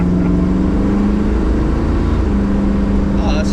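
A 1970s muscle car engine rumbles low and steady at close range, with a continuous growl and a brief higher sound near the end, heard alone with no speech.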